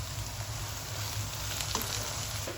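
Tomatoes go into hot oil in a pan while making stuffed karela, giving a steady, close frying hiss with a low rumble and no voices.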